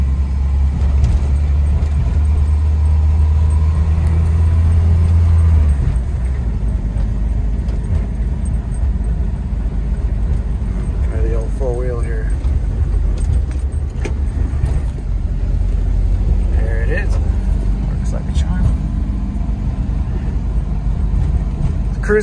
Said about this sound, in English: driving the Jeep. Stock 95YJ on a snowy day.